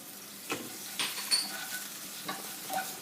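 Green chili and tomato fry in a pan with a soft background sizzle, punctuated by a handful of sharp clinks and scrapes from stirring.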